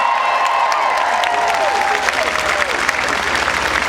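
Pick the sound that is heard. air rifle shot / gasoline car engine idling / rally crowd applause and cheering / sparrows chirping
rally crowd applause and cheering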